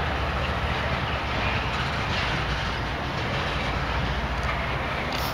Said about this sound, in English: You can see the train.